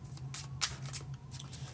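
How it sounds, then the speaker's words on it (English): Tarot cards being shuffled back into a deck give soft, quick riffling bursts against a quiet background. "I shuffle the cards back into the deck"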